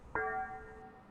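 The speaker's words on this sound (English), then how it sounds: "This was recorded when they rang the bells weirdly." A cathedral church bell below the St. Louis Arch gives a single sharp strike, then a clear ringing tone that hangs and slowly fades, heard from a distance with no talk.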